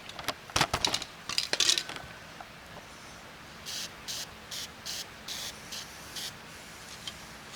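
Lubricant sprayed onto a shaft while fitting a new tyre on a haybob: a few metallic clinks and rattles come first, then a series of short, close hissing spray bursts in a fairly regular rhythm, no talking.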